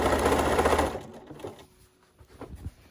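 A sewing machine runs a loud, steady, fast whir as it sews an S-shaped stitch along the edge of a cuddle fabric binding. After about a second it stops, leaving faint handling noises.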